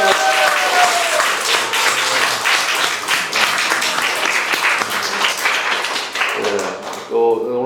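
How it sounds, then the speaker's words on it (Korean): A church congregation claps loudly and steadily in celebration during a worship service, a close, dense burst of many hands that thins out near the end as voices and a few final claps emerge. "박수!"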